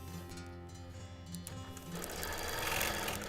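A sewing machine stitching steadily while free motion quilting a Christmas table runner, a fast even mechanical whir that grows louder and denser partway through, heard alone and close.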